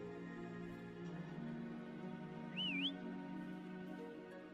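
A short rising-and-falling whistle near the middle, played as a call to Foam in the video game Wuthering Waves, over a steady bed of game music and ambience.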